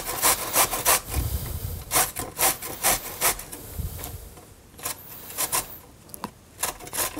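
An old, very sharp hand grater rasping vegetables for a salad: repeated rough scraping strokes in an uneven rhythm, close and fairly loud, with no talking.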